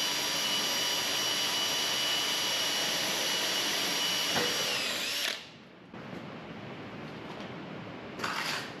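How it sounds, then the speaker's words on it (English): A power drill whines steadily and loudly, grinding through a heavy cast aluminum blast gate for about five seconds, then stops; softer mechanical noise follows with a brief burst near the end. "The blast gate takes a little more to drill through because it's heavy cast aluminum."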